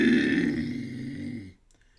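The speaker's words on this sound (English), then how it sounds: "let me just get the burps out" A man lets out a long, low, rumbling burp, close and loud, lasting over a second before fading abruptly into quiet.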